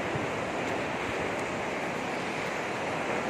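Ocean waves wash against a seashore near sea caves, a steady, loud, broadband roar of surf with wind buffeting the microphone throughout, no voices.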